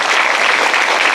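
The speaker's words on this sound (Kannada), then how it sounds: "ಎಲ್ಲರೂ ಗಟ್ಟಿಯಾಗಿ ಚಪ್ಪಾಳೆ" A church congregation claps loudly during a worship service, a dense, steady wash of many hands close by, with no talking over it.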